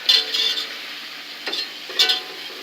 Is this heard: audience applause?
no